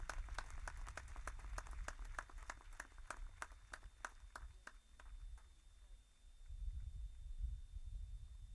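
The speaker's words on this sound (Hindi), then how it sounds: "एक बार जोरदार तालियां जैना जी के लिए।" At a government sports scheme launch, an audience claps with distinct, evenly spaced strong beats that thin out and fade, leaving low background rumble; the sound is quiet and somewhat distant.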